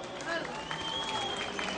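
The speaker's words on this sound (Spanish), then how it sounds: "¡Venga el aplauso!" A crowd applauds at a 2012 village fiesta in San Juan Comaltepec: steady, dense, fairly distant clapping with a faint thin whistle running through it, and no talking.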